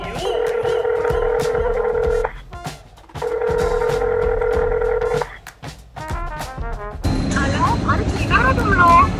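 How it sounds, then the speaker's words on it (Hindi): A phone rings back in two long repeated tones with a short gap, then a person starts talking over the line at the end. "फोन लग रहा है"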